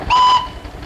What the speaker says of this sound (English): Let's hear a whistle, Mr. Greer.